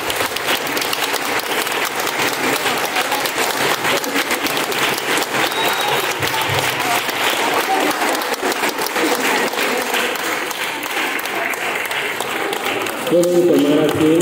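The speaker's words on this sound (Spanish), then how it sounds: "Ahora den un fuerte aplauso a sus papás." Sustained applause from a congregation for the graduates' parents during a graduation mass, a dense, loud wash of clapping that runs unbroken with a brief murmur of voices near the end.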